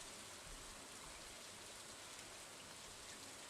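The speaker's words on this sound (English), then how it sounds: "This rain is super therapeutic." Steady rain falling outdoors, a soft, even hiss of drops pattering on surfaces, quiet and unbroken throughout with no voices.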